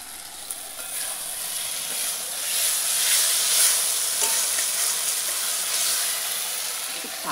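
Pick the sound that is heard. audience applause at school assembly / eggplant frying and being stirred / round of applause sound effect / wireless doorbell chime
eggplant frying and being stirred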